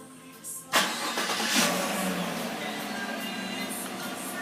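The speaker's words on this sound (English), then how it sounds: "For the remote start, we hit the start key once." A 2017 GMC Sierra Denali cranks and fires up by remote start, starting with a short chirp, then an abrupt crank and catch, a brief rev, and a steady idle at close range.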